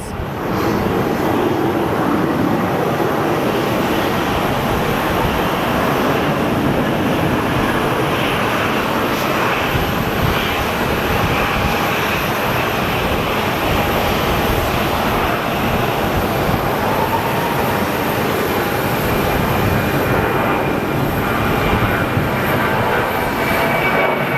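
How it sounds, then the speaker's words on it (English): A steady, loud jet engine roar as a Boeing 737 departs Phoenix Sky Harbor Airport, sustained throughout with wind noise buffeting the microphone. "departing for Sacramento, little 737"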